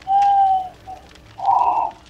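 A person imitates an owl call with the voice during a Dead by Daylight livestream: two sustained, hollow hoots, close and fairly loud, separated by a brief quieter gap.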